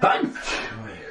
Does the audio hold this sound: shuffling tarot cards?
no